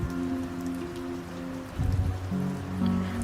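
Gentle rain falls steadily on a surface with soft pattering drops, a calm continuous wash used as a backdrop for a guided Hindi hypnosis session, with a low tonal hum underneath and no voice.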